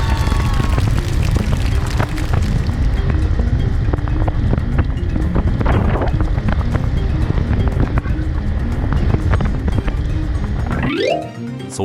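Strong, unobstructed sea wind at Cape Soya, Hokkaido, roars against the microphone during a Suzuki ST250e motorcycle ride, as a continuous heavy buffeting rumble that cuts off abruptly near the end.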